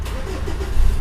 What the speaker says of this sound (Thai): นี่สตาร์ทเครื่องครับอันนี้เป็นปุ่มสตาร์ติดเข้าไปใหม่นะครับ